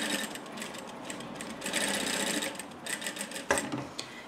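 A domestic sewing machine backstitches along the lining of a fabric mask pouch, a steady close mechanical whirr with rapid needle ticking that surges and pauses briefly near the end.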